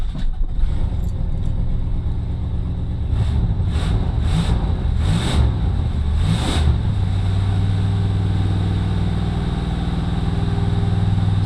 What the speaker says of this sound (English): Let's try cranking it up again.